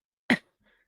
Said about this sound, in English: Sorry, I'm going to cough again.